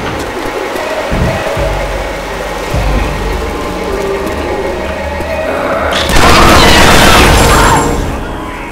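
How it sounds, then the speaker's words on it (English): A pipe bomb goes off in a zombie shooter game, a loud booming blast that swells into a dense crashing roar over already noisy, chaotic gameplay. "Pipe bomb in the corner."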